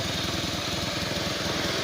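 A Kawasaki Bajaj CT 100 motorcycle engine, one with a fault that makes it stall once warm, runs at a steady idle, loud and close, with an even, rapid putter and no speech.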